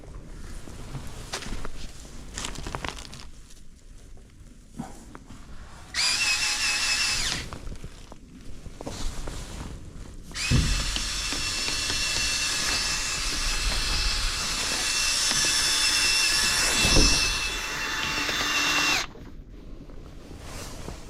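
A power drill spins a chimney sweeping brush inside a chimney flue, producing long stretches of loud, whirring, hissing scraping that stop and start between quieter pauses, with no voices.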